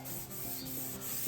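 Steady sanding of a 1966 Mustang body panel, a quiet continuous rubbing with slight rhythmic strokes and no voices.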